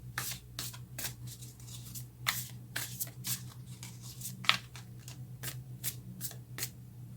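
Tarot cards are drawn and shuffled in a rapid run of soft, close riffling slaps and rubs, quiet and irregular, with no one speaking.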